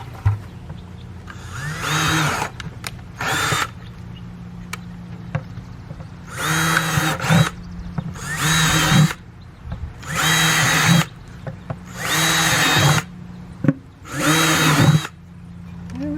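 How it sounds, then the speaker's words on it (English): A power drill bores holes in the bottom of a 5-gallon food-grade plastic bucket, whirring in a series of short loud bursts with brief pauses between each hole. "You have to drill some holes in the bottom of it."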